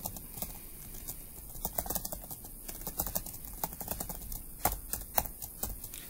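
Fingers type on a computer keyboard, giving a quick, irregular patter of light key clicks at a moderate distance over low background hiss.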